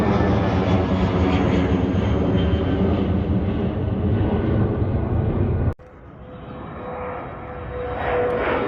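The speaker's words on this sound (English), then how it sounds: "an Airbus A320 to 200 SAS airline." An SAS Airbus A320-200 airliner at Bergen Flesland airport makes a loud, steady engine roar that drops abruptly partway through, then continues as a quieter, rising jet whine.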